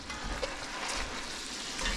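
Sage sausage for stuffing cooking in a pan, firming up and starting to brown, with a quiet, steady sizzle and crackle plus faint stirring, no talking.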